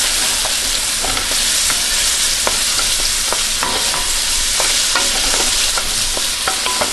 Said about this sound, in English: our onions are finally deciding they're going to come up to a sizzle.